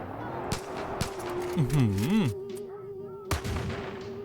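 Gunfire in the Far Cry 5 video game: a few separate sharp shots spaced apart, with a voice talking and exclaiming over a steady background hum.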